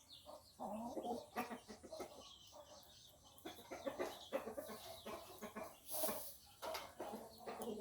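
Hens cluck repeatedly at close range, short choppy calls tumbling over one another in a busy flock of fighting chickens, with a sharper squawk near the end.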